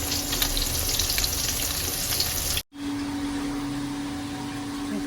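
Spiced fish, coated in chilli powder, onion, garlic and cumin paste, fries in a pan with a loud, even sizzle that cuts out briefly midway, then resumes as a steady hiss with a faint hum.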